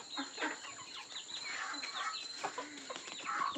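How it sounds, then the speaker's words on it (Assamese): A flock of chickens clucking continuously while being fed rice, busy overlapping clucks close by, with a faint background hum. "কুকুৰাবোৰক চাউল দি আছে"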